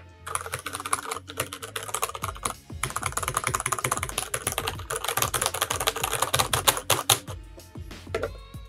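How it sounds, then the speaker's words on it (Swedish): A Ducky mechanical keyboard with red switches being typed on, a dense run of quick, close keystroke clicks and clacks with a few brief pauses, no voices present. "Och så här låter den när man skriver med röda brytare."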